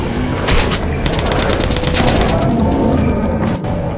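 Sustained gunfire in the post-apocalyptic shooter Metro Last Light Redux, dense rapid shots crackling continuously at close range, loud and unbroken for several seconds with a few heavier cracks standing out.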